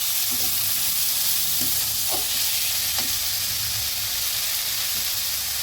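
Potatoes and pumpkin flowers frying in a pan, a loud continuous hissing sizzle with occasional soft stirring knocks, no speech.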